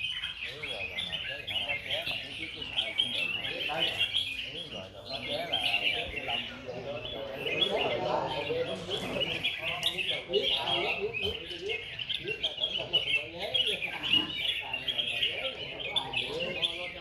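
A red-whiskered bulbul sings loud and close in a bird song contest in Bình Dương, pouring out continuous, rapid warbling phrases with other birds chirping faintly around it.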